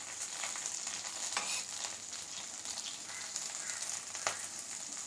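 Mint chutney ingredients frying in oil in a pan, a constant close bubbling sizzle with a few brief stirring scrapes, fairly quiet and with no talking.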